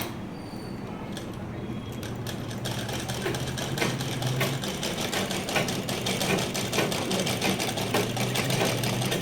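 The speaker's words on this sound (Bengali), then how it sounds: "এবার দেখো কত বড় বড় সেলাই হবে।" An electric sewing machine set to a long stitch length runs steadily and close, a continuous mechanical whirr with a rapid rhythmic stitching pulse, rising slightly after the start and holding for the rest of the clip.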